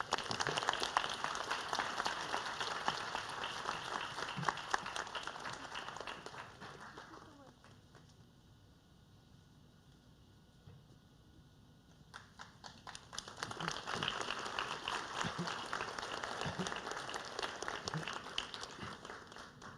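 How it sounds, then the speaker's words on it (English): Audience applause at an academic excellence awards ceremony rises in a long, steady burst, thins to a quieter lull midway, then swells back to full clapping until the end. "Let's give Hannah a round of applause."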